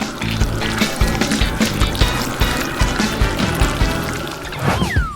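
Melted cheese is poured over a bread bun with a run of soft, wet glugging splashes in a fairly regular rhythm, close by and with no talk.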